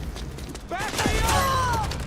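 Burst of gunfire in the Metal Gear Solid 4 PS3 game, a short flurry of shots with ringing metallic tails, mixed with game voices and effects.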